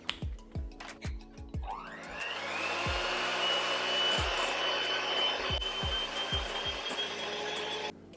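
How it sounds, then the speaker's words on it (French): An electric mixer whips egg whites into stiff peaks for a sugar-free chocolate zucchini cake, a steady loud whirring hum with a rising pitch, after some scattered clunks and knocks from the bowl and beaters. "On va maintenant s'occuper de monter les blancs en neige."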